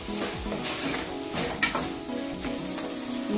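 Boiled black chickpeas stirred into a spinach palak curry in a hot pan: a steady sizzle and frying hiss with scraping, stirring strokes and an occasional faint clink of the spoon.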